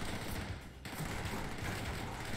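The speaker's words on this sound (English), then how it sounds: "Gotta keep shooting him because he's shooting you." Rapid, dense gunfire from a Call of Duty: World at War video game, a near-continuous fusillade of loud shots with a brief dip partway through.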